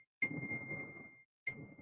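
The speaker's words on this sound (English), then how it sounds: "Can you hear that dinging?" Phone text message notification dings, two clear high chimes about a second apart, each followed by a short, quiet electronic ring-out.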